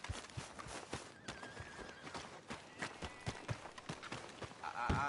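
Quick clip-clopping hooves of a video game horse beat steadily while it whinnies briefly, then again near the end, with a faint hum of other sounds.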